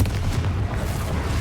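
Booming blast of a Confringo curse in Hogwarts Legacy, a dense low rumble sustained for about a second and a half, loud and close with no speech.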